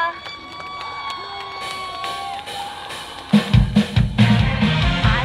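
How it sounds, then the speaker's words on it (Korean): An audience bursts into loud, dense clapping and cheering at a celebratory anniversary concert in Wonju. Ringing musical tones come first, then the crowd's applause takes over for the final two seconds. "많은 박수 부탁드립니다."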